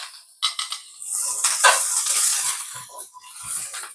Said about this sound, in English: A nice good saute on it.